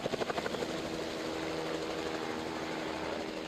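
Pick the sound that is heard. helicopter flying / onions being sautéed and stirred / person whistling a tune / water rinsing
helicopter flying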